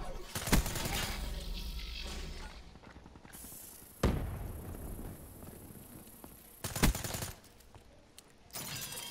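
Video game turret firing in hardcore mode, four loud bursts spaced a few seconds apart over a rumbling, mechanical game background with no talk.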